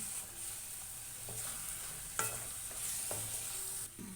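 Tomato puree frying in a pan for a mushroom and meal maker curry, a soft steady sizzle under occasional light scrapes and taps of a spoon stirring, fairly quiet and without talk.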